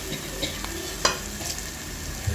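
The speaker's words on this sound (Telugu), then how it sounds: "మసాలాలన్నీ బాగా ఫ్రై అయ్యాయి చూడండి." Spices sizzle in oil in a pan for a tamarind fish curry, a soft steady frying hiss with a few light stirring clicks and scrapes, close and fairly quiet.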